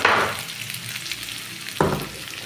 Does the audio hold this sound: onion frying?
yes